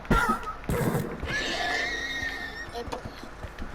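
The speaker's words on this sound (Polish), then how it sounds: "Konik." A horse neighs in the Minecraft video game, a bright whinny rising and wavering over a couple of seconds, heard alongside players' chatter and game noise.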